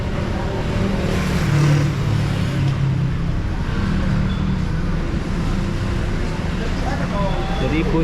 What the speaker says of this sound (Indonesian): Ini sudah mulai naik bus.